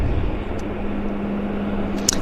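An airliner takes off at Vancouver airport, heard as a steady, broad engine roar with a low hum running through it, fairly loud and continuous, with a couple of faint clicks.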